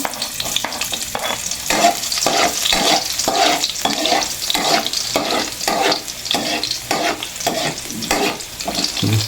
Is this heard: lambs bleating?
no